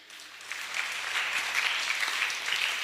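A congregation applauds to acclaim the Lord Jesus at a Sunday church gathering, steady moderate clapping that rises slightly and holds for a few seconds with no voices.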